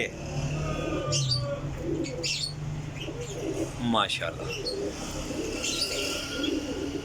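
A loft of 42 fresh, active champion pigeons coos in low, continuous rolling murmurs, with scattered chirps and brief wing flutters, while someone speaks briefly over the birds.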